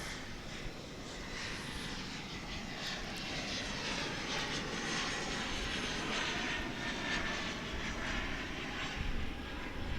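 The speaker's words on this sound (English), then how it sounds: "That's an Embraer 175." An American Eagle Embraer 175 regional jet arriving at Dallas Fort Worth airport, its engines a steady, broad rumbling roar heard from a distance and holding throughout, with no talk.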